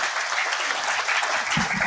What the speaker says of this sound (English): Nalla, you can clap your hands loudly for the next generation with your heart and with your hands.